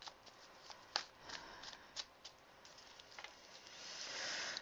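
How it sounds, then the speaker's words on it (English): Tarot cards are shuffled and laid down close by: a quiet run of crisp riffling flicks and light slaps, irregular and soft, rising into a steady papery rustle at the end, with no voices. "Let's put down some cards and see what else we can come up with here."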